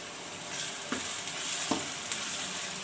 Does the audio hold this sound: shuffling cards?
no